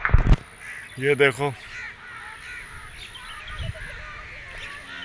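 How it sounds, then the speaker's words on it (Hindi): Crows caw loudly in a village at evening, a burst of several harsh calls close by, then quieter scattered caws; someone speaks briefly at the start. "शाम का टाइम में कौवे बहुत ज़्यादा हैं इधर हमारे गांव में"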